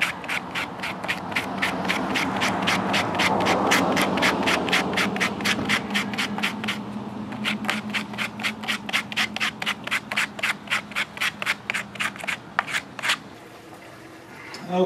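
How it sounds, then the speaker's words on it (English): An aquarium algae scrubber screen scraped clean of algae: steady, rapid rhythmic rasping strokes, close and loud, speeding into evenly spaced scratches before stopping, with no talk. "if I used a better tool to scrape the screen"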